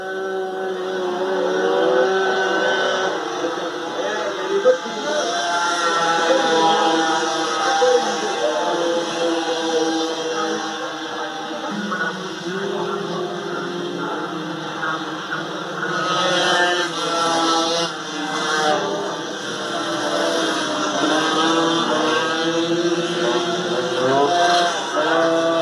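MBK mopeds race in a 51/RCX event, their small two-stroke engines buzzing and rising and falling in pitch as they pass, several machines overlapping at medium distance, with faint talk at times.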